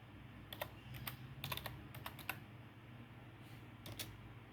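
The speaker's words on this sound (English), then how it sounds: "Type a name and a password." Computer keyboard being typed on while a name and password are entered, quick clusters of soft key clicks in short bursts with pauses, faint and close over a low background hum.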